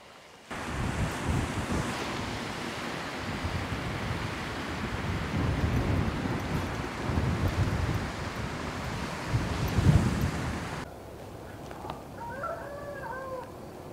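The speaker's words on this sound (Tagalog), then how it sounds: "Hangin pa din, no?" Strong wind roars across a seashore in continuous, loud broadband gusts with surf beneath, buffeting the microphone; after about eleven seconds it drops away, leaving a quieter background with faint bird calls.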